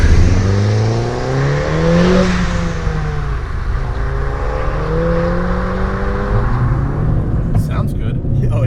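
A modified 2013 Mini John Cooper Works GP revving hard, loud close engine tone sweeping up and down through several throttle blips, with sharp blow-off valve whooshes between pulls under a steady road roar.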